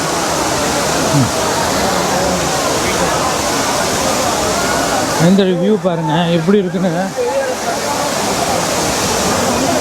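Aintharuvi, the five-stream waterfall at Courtallam, pours down in a loud, continuous roar of crashing water that fills the whole clip; someone speaks briefly over it midway.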